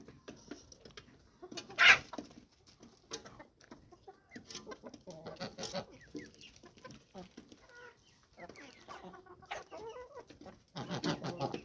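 Chickens clucking and squawking in short irregular bursts, fairly close, with a louder cackle early on and scattered scratching noises between calls.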